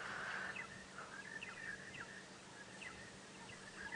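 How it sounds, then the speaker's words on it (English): Birds call around a safari vehicle at sunrise, with several faint chirps and short whistles scattered over a quiet outdoor hush, no voices. "Listen to the birds around us."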